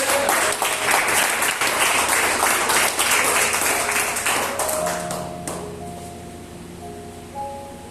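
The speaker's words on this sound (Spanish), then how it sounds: "Dale un aplauso al que vive" Loud, sustained applause from a large church congregation gradually fades away as soft, held keyboard notes rise and linger underneath.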